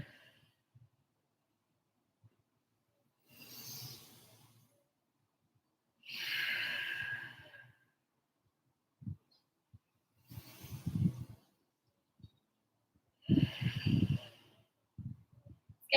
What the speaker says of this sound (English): Then we're going to exhale as we round forward. And then inhale to pull back